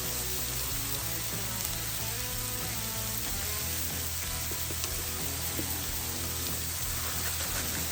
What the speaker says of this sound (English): now I will finish the steak on the griddle and melt some cheese on top of the vegetables